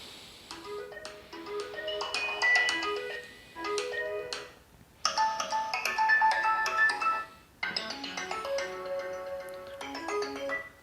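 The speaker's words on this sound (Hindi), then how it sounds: "यहाँ से कुछ रिंगटोन्स को चला लेते हैं।" A TCL 10L phone's single speaker plays a series of bright, chiming ringtone melodies one after another, thin and moderately loud, with short pauses between them.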